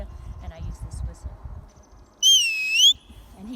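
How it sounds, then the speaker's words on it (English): One loud, piercing sheep-herding whistle, about three-quarters of a second long with a slight wavering rise in pitch, is blown to call a herding dog back. It follows a stretch of quieter speech and stands out sharply above it. "I use a sheep herding whistle, and that's how I call him back to me"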